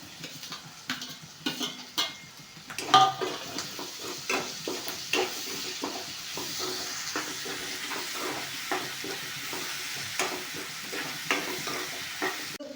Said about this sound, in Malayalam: അരിഞ്ഞ് വെച്ചിരിക്കുന്ന തക്കാളി ഇട്ട് കൊടുക്കാം.